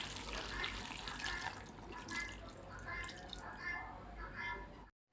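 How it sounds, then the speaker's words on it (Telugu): A glass of water is poured into a pot of cooking gongura chicken, making a steady splashing, running pour that lasts several seconds at moderate, close range before it stops abruptly. "ఒక గ్లాస్ వాటర్ వేస్తున్నానండి"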